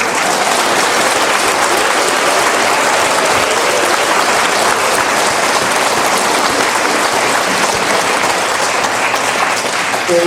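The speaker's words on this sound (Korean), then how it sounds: "제가 듣기에는 박수 소리가 시원찮습니다." A congregation at a Christmas night Mass in 2022 claps continuously in a church, a dense, even wash of applause that holds steady throughout with no voices above it.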